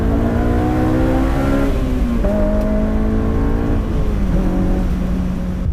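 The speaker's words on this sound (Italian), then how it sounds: "Quanto mi mancava guidare l'S2000 su strada e strapazzare questo VTEC in zona 9000 giri!" A Honda S2000's VTEC engine screams loudly on the road, climbing toward about 9000 rpm with rising whine and brief shift dips, close and steady throughout.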